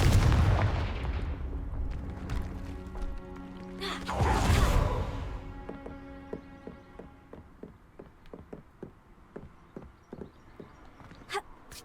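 The Confringo blasting spell in Hogwarts Legacy goes off as one loud booming burst about midway, among softer hoof-like clops and game music.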